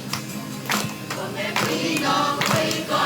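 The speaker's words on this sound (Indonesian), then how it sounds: "mereka tetap tepuk tangan terus" A church congregation claps along to a slow worship song, with a steady rhythmic pattern of fairly soft hand claps sounding through the music.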